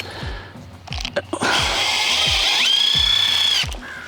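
A power drill drives a heavy-duty screw-in tent stake into hard ground, the motor whining steadily and loudly for about two seconds, with its pitch rising partway through, after short start-up bursts.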